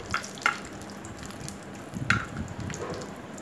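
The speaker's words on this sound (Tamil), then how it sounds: "இப்போது முந்திரியை ஃப்ரை பண்ணி எடுத்துக்கலாம்." Cashew nuts fry in hot oil in a pan with a faint, steady sizzle, broken by a few light metallic clinks of a utensil; no one speaks.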